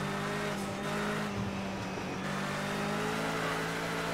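A racing-sim car engine holds a steady, loud droning note with layered harmonics, rising slightly in pitch as it revs, mixed with road and tire noise and no speech.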